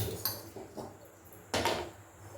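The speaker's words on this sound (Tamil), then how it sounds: "ஸ்டவ் பற்ற வச்சு கடாய் வச்சாச்சு." A kadai set down on a lit stove while making kara bonda: a few close metallic clunks and scrapes of the pan against the burner, sharp and brief over a quiet room.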